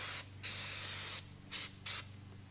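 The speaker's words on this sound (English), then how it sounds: "here's my final clean down of the sump. Just with a little bit of Carby cleaner or throttle body and Carby cleaner." Three short bursts of aerosol carburettor and throttle body cleaner sprayed onto the sump of a Toyota Landcruiser 1VD diesel, each a sharp, close hiss with quiet pauses between.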